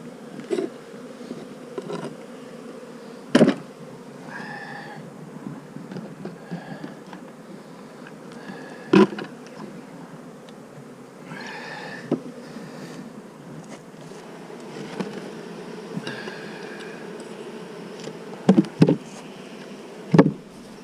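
Many honeybees buzz steadily around the hives in an outdoor bee yard, a dense, continuous drone broken by a few sharp knocks and clicks close by. No voices are heard.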